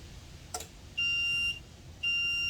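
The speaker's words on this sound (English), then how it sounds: "It's got a timer on it here, so it'll just do its thing, and then when it's finished it'll sound like a truck backing up." Two long, steady electronic beeps from a machine's finished timer, like a truck reversing alarm, each about half a second, separated by a pause, after a brief sharp click; high-pitched and clear with no talking.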